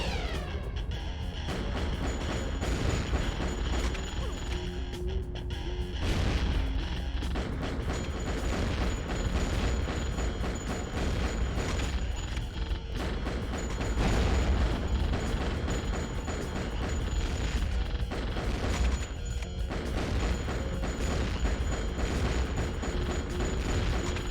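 Sustained gunfire and booming blasts from Underworld: The Eternal War, a dense continuous barrage layered over a droning game soundtrack, loud and unbroken for the whole stretch.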